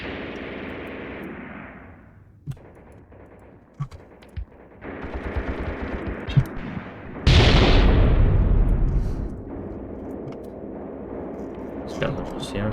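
Artillery explosions and rapid machine-gun fire from the WWII tactics game Graviteam Tactics Mius Front, with sharp distant blasts, a big loud roaring explosion midway and continuous rumbling battle noise.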